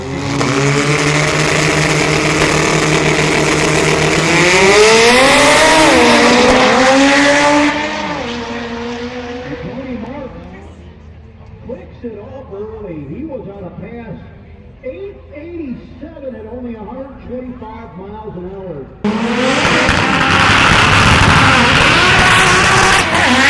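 An all-wheel-drive Honda H22 race car at a shootout event roars past, its engine climbing in pitch and then dropping away into a warbling, lower-revving drone. A voice speaks at times over the engine.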